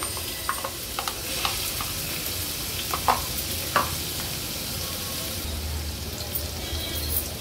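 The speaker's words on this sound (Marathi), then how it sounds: "फोडणीला आपण हे आलं लसूणचं क्रश ऍड करूया" Crushed ginger and garlic sizzle in two tablespoons of hot oil in a pot, a steady frying hiss with scattered pops and the scrape of a spoon stirring.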